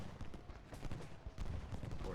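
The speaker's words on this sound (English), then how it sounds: "a good firefight down here" Battle gunfire in a firefight in Ultimate General Gettysburg, a muffled rattle of musket volleys and scattered shots rolling continuously under a voice.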